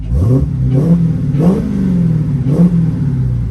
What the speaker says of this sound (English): This thing is one of the best sounding cars I think I've ever heard.